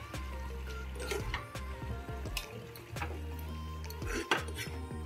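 A cooking pot of beans curry is lifted off a stove, giving several metallic clanks and scrapes of pot and utensils against the burner, close and fairly clear, with no voices.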